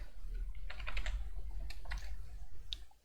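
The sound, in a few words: typing on a computer keyboard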